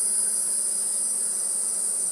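Honeybees in an open hive during an inspection make a dense, unbroken, high-pitched hum that holds steady and close throughout, with no voices.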